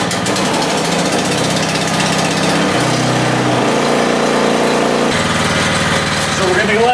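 A small engine, likely the snowblower engine on a Yamaha YT624EJ, runs and idles after a recent valve adjustment, its first start after sitting all year. The steady, loud, close mechanical drone shifts pitch slightly a few times.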